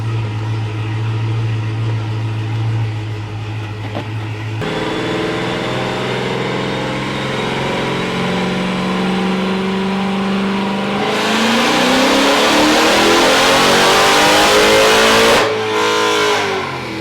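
A supercharged Dodge Hellcat engine revs hard on a dyno and holds at high RPM, a loud, sustained roar that climbs in pitch and then cuts off abruptly near the end.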